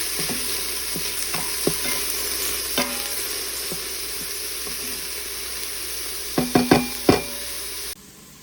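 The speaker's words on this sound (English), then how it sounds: "We are sauteing the onions." Onions sautéing in a pan, a continuous hissing sizzle close up, with a few utensil clinks and scrapes, a cluster of louder knocks near the end, then a quieter tail.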